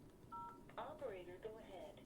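Blue box tones play down a payphone line: a brief steady tone pair, then a voice speaks over a faint, noisy line.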